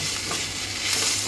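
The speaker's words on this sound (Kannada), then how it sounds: "ನಾನು ಸಿಮ್ಮಲ್ಲಿ ಇಟ್ಕೊಂಡೇ ಫ್ರೈ ಮಾಡ್ತಾಯಿದ್ದೀನಿ" Tomatoes fry gently in a pan over a low flame, a soft continuous sizzle and hiss with no talking.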